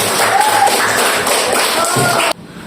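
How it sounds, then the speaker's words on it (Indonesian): Students in a primary science class clap their hands together, a loud, close burst of dense clapping lasting about two seconds before cutting off sharply. "Tepuk tangan buat matahari."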